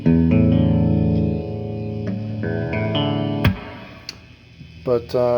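A Dean ML prototype electric guitar rings out sustained chords and notes with a thin, bright, somewhat hollow coil-split tone, with a few quick plucked notes near the end.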